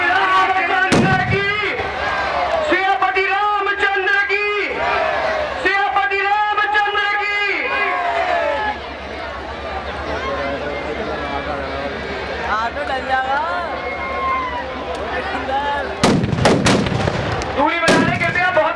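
Firecrackers burst with a few sharp, loud bangs inside a burning Kumbhakarna effigy at an outdoor Dussehra Ramlila event in Amroha. Someone speaks almost continuously over a loudspeaker, and crowd noise hums underneath.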